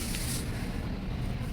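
Varnish sprayed from an aerosol spray can outdoors in windy air, heard as a steady broadband hiss lasting the whole moment, close and even in level, with no talking.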